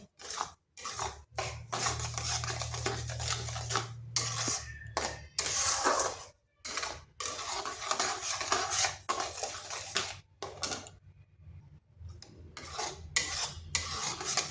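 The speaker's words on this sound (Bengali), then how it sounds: "এইভাবে নাড়তে নাড়তে দেখুন চিনিটা সম্পূর্ণ কিন্তু গলে গেছে" A spoon stirs sugar syrup boiling in a pan, metal scraping and clinking against the pan in bursts broken by short pauses, close and clear, with a low hum underneath.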